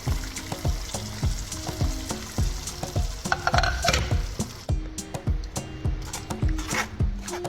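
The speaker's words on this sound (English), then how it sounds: "So now I'm going to strain my sauce in a colander over my meat." Red chile colorado sauce of chili peppers and onions is worked through a colander over meat, making rhythmic wet scraping and tapping knocks, fairly close and loud, with no speech.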